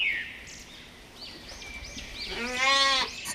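Sheep bleating in a grassy meadow, a faint bleat early on and then one loud, wavering close bleat near the end over quiet background.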